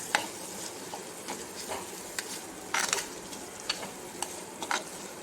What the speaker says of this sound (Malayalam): എന്നിട്ട് നമുക്കിതൊന്ന് ഇളക്കി കൊടുക്കാം.